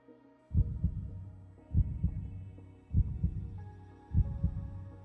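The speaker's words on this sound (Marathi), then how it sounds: "सक्षमच्या हृदयाची धडधड थोडी तीव्रपणे वाढली" Heartbeat effect in an audio story: four evenly spaced, deep double thumps with a low hum beneath, steady and close, without talk.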